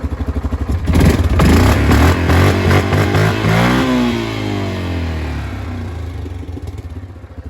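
A Yamaha Kodiak 450 ATV engine revving close by, running on mixed fuel, climbing through a couple of strong throttle blips before settling back to a steady, slightly rough idle, with no talk over it.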